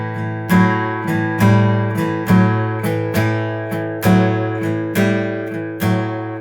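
A plucked guitar blues boogie woogie riff in a steady shuffling rhythm, repeating sharp attacks over ringing low notes, played alone and close.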